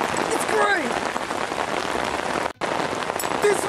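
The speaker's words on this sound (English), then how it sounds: "This rain is no joke, Noah!" Steady rain falls on a surface with a dense, hissing patter, with brief vocal sounds in the background and a momentary dropout near the end.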